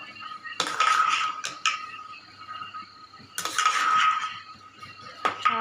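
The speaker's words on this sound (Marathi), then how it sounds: "पूर्ण शिजेपर्यंत हलवायचा आहे आपल्याला गुळांबा" A spoon scrapes and clinks against a pot of thick mango and jaggery preserve cooking with mango stones. The stirring comes in a few loud bursts of scraping separated by quieter pauses, with no talk.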